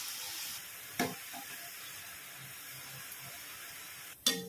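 Raw coconut and pepper janthikalu dough fries in hot oil with a steady, soft sizzle and hiss, broken by a couple of sharper crackles as pieces drop in.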